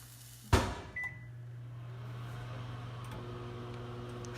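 Microwave oven heating a whole can of beans: a sharp thud and a short beep at the start, then a steady low electrical hum with the fan running, alone with no talk.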